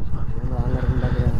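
A Bullet motorcycle approaching on a village track, its thumping single-cylinder engine loud and near with a steady pulsing beat throughout the brief moment.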